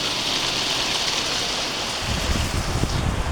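Heavy rain pours down steadily around a house, water close to overflowing onto the floor, a dense, unbroken hiss that swells slightly toward the end.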